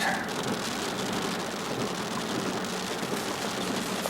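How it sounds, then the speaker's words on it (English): Steady, dense rain in the desert hiss fills the whole stretch, a continuous broadband wash with a low rumble underneath and no voices. "The rain is just rushing along."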